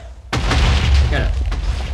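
A heavy, booming TNT blast in Minecraft erupts abruptly after a brief quiet and rumbles on for over a second and a half, with players talking over it.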